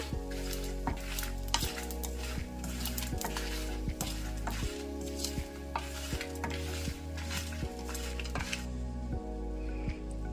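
Cardamom and dry coconut roasting in a pan for mutton masala curry, with a steady, close scraping of a spatula stirring in a regular rhythm over a faint crackle and occasional metallic clinks.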